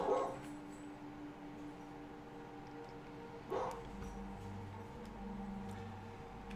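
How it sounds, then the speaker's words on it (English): A frightened dog whimpers and gives a couple of short barks indoors, with a sharp yelp near the start and another around midway, over a steady low background hum. "Apparently the secret tunnel has scared my dog."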